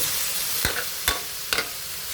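Chicken sizzles steadily in a frying pan as it is sautéed until brown. A spatula scrapes and stirs against the pan three times over the constant frying hiss.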